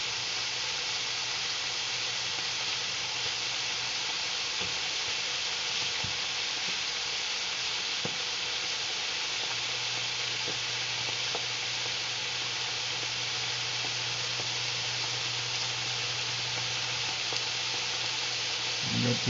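Pork chops fry in a pan with a loud, continuous sizzle and hiss that runs unbroken from start to finish, with occasional small pops and crackles.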